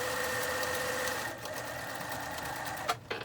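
A domestic sewing machine runs steadily while stitching a face-mask seam, a fast even mechanical whir with a faint high whine, briefly easing then stopping with a small clunk near the end.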